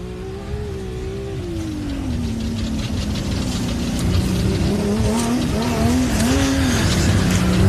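Race car rounding the final corners of the Loveday 400, its engine note rising and falling through gear changes as it powers toward the finish line, loud and close throughout, with a steady roar and no voices.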